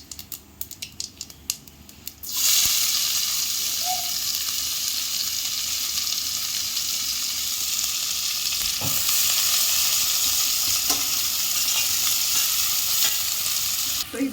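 Mustard seeds, cumin and sliced onion hit hot oil and burst into a loud, steady sizzle that runs unbroken after a few sharp pops and crackles at the start, with occasional faint stirring clicks and no voices.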